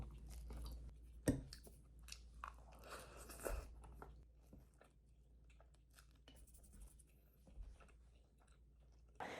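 Quiet, close chewing of scrambled eggs with crunchy garlic chips dipped in yolk, soft irregular crunches and mouth sounds with a few louder bites and low room hum, no talking.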